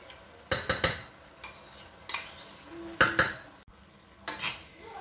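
A spoon stirs French cream into shrimp and broccoli spaghetti in a metal pan, making a series of close, rhythmic scraping and clinking strokes.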